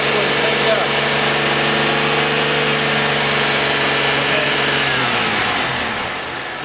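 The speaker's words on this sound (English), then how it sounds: "So we're going to rev the engine a little bit." Car engine raised above idle to a steady moderate rev, a constant mid-pitched drone held close by, then easing back down toward idle at the end.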